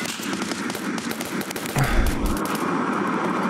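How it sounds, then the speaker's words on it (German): Gunfire in the Escape From Tarkov shooter game, a rapid series of sharp cracks followed by a heavier thudding impact, with a rumbling background. "Von der Seite schießt wer auf mich?"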